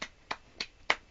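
A toddler claps small hands four times in an even rhythm, each clap a sharp, faint, close-up tap with quiet gaps between.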